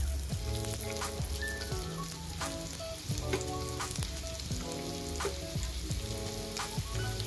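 Onion hits hot oil for a village-style chicken rassa, a dense continuous sizzle with occasional stirring under steady background music.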